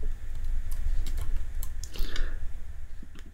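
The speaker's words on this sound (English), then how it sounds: "and I'll type my name" Light tapping of keys on a computer keyboard, a short run of soft clicks at a moderate pace over a low background hum.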